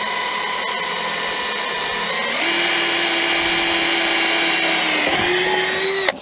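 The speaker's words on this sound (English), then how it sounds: "so I'm going to pre-drill a hole." A power drill bores a pilot hole through wood into structural steel for wafer bolts, a steady high whine that rises in pitch and load partway through, then winds down near the end with no talking.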